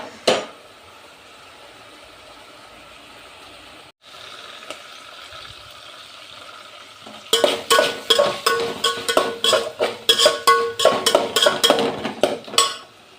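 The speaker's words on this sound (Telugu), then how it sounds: "మనం తరిగి పెట్టుకున్న వెజిటేబుల్స్ అన్నీ వేసి ఒకసారి ఫ్రై చేసుకోవాలి" Chopped vegetables are stir-fried in oil in a pan, a soft sizzle running under the first seconds before a spoon clatters repeatedly against the pan in brisk, close, rhythmic scraping strokes.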